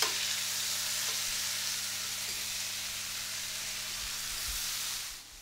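Mackerel chunks frying in a hot pan as they are turned, a loud, even, broadband sizzle held steady for several seconds before easing off at the end, with a faint low hum beneath.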